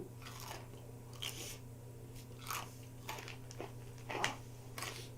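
Crunchy Korean corn dog coated with potatoes, bitten and chewed up close: several sharp crisp crunches spaced about a second apart, with steady chewing between them and no talking.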